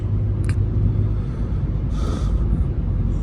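A Hyundai i20 N Line cruises in sixth gear, giving a steady low road rumble with tyre and wind noise throughout and a short hiss partway through.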